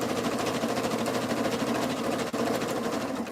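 A sewing machine stitching a jelly roll rug, running in a fast, steady rhythmic whir close by with a brief pause partway through, no voices.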